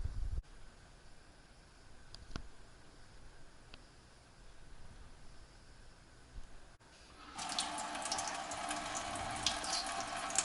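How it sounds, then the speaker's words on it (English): Tap water from a kitchen sink runs into a white cup, a steady, close rush that starts suddenly after a few seconds of quiet room tone with faint clicks. "So this white cup I'm going to fill with sink water."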